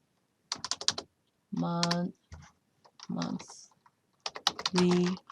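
Short bursts of keyboard typing, close and crisp, alternating with a speaking voice.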